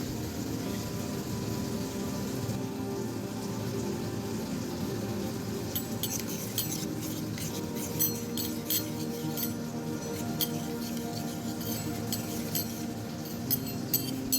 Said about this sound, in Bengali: এবার অন্য একটা পাত্রে হলুদ, লঙ্কার গুঁড়ো ও জিরের গুঁড়ো ভালো করে জল দিয়ে মিশিয়ে নেব।